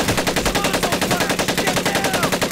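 Sustained machine gun fire in Medal of Honor: Pacific Assault, a fast, steady, even rhythm of loud rounds running without a break through the whole stretch, heard alone.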